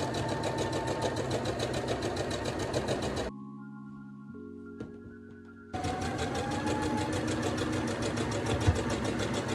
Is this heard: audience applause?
no